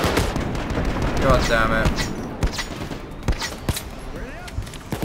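Gunfire in the Payday 2 heist game, a rapid fusillade of sharp shots and bursts over a busy battle din, while someone speaks briefly over it.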